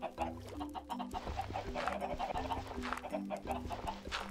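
Chickens in the Minecraft video game give short, repeated clucks in quick bursts, moderately quiet and steady throughout, alone with no talking.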